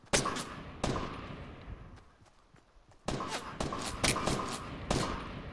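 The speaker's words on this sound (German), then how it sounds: "Hier haben wir mal eine vernünftige Pistole." Pistol fire in the video game Fortnite: a handful of sharp, loud shots, two early and then a quicker cluster of four or five, separated by a quieter gap.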